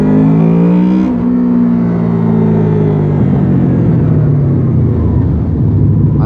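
A Honda VFR800X Crossrunner motorcycle engine rumbles close by under a bridge, revving and then settling into a steady growl with a boomy, resonant echo around it.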